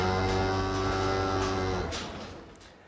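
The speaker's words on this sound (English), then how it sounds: "Abe visited the cattle ranch" Cattle mooing at a ranch in Fukushima Prefecture run by displaced farmers, a long, loud, droning low moo that carries for about two seconds and then fades into quieter background noise.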